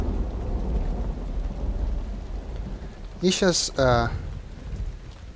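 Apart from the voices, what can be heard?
rain and thunder in the video game Uru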